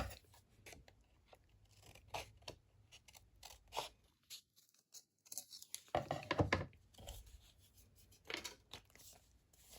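A folded paper scrap is trimmed with scissors, giving a run of close, crisp snips and paper rustles and crinkles, with a short quiet pause in the middle before more cutting.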